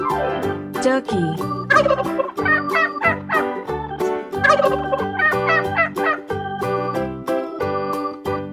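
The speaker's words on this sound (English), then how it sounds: "Turkey." Turkey gobbling in several loud rattling bursts over steady background music, close and clear.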